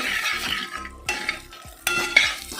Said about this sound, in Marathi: जिरे सासवा हिंग आणि दोन मिरसांगो त्याच तेलात तो फ्राय करता ही तडको असा हो तयार करता